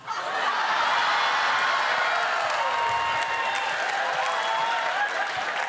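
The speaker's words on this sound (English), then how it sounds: "I love that you're cheering for that." A game show studio audience applauds and cheers steadily and loudly throughout, a dense wash of clapping with scattered laughter, no speech over it.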